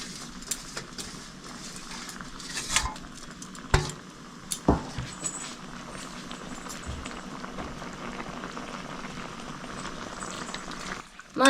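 Mourola fish being stirred into simmering kochur loti curry, bubbling wet cooking noise with scattered clinks and scrapes of a spoon against the pot, no talking.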